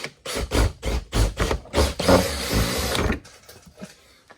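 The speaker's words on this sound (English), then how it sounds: "now we're just going to drill right up through the center of the slotted hole" A power drill bores through a slotted hole in a Polaris RZR rear fender while fitting a fender extension, heard as a run of short, loud bursts up close, then a longer grinding stretch that fades into quieter clicks.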